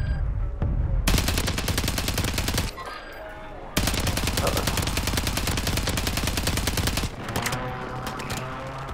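Rapid automatic gunfire from a video game match blasts in long continuous bursts, with a brief pause and a short break near the end, loud and close with no speech over it.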